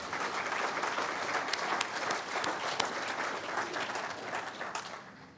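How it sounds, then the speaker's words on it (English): A conference audience at Cattle Connect 2025 applauds the Cattle Australia board in a sustained, even wash of many hands clapping, moderately loud and continuous, fading slightly at the end. "could I ask for a round of applause for the Cattle Australia board"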